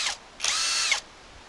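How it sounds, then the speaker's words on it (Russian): Powerful cordless drill fitted with a mixer attachment, revving in two short whirring bursts, a quick blip and then a steady half-second run, loud and close with no talk. "Шуруповерт такой мощный."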